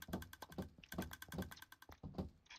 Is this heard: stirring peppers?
no